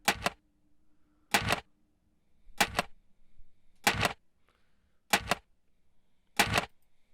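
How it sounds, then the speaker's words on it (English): Six sharp metallic clatters, evenly spaced about a second apart, each an aluminum can thrown into a recycling bin, with near silence between. "I've got me throwing a aluminum can into the recycling"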